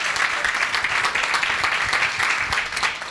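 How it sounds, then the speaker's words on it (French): A crowd at an awards ceremony applauds continuously, a dense wash of many hands clapping at once, loud and sustained without pause. "J'aimerais qu'avec vous, on lève une salve d'applaudissements, qu'on les applaudisse, la jeunesse africaine"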